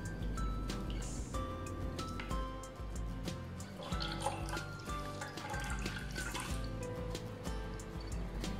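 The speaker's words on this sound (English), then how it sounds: "Wash it with normal water and then squeeze it again." Water drips and trickles as paneer wrapped in a cotton cloth is squeezed, a faint steady wet patter with occasional squishes.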